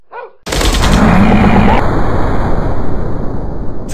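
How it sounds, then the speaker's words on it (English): Loud, sustained automatic gunfire from a mobile FPS commando game bursts in after a brief quiet moment and keeps rattling close and dense, with a faint voice before it begins. "I'm shooting these fools up!"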